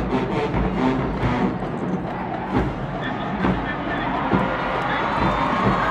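Crowd cheering and roaring at an HBCU all-star battle-of-the-bands field show, a dense continuous wash of voices with swells and shouts throughout.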